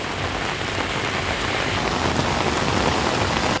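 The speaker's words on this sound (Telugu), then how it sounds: "గ్రేటర్ హైదరాబాద్ ని భారీ వర్షం ముంచెత్తింది." Heavy rain falling over Hyderabad city, a loud, dense and unbroken downpour with no voices over it.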